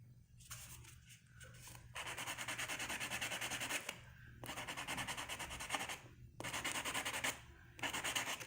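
Buffing block scrubbing a dark plastic nail tip on a practice hand, steady gritty rubbing in long close strokes broken by short pauses, no talking.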